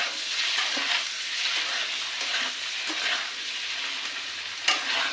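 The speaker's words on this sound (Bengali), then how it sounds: "ডিমগুলোকে একটু লালচে করে ভেজে নিতে হবে।" Eggs frying in a pan until reddish, a steady close hiss of bubbling oil with faint scrapes of stirring and one sharper clink near the end.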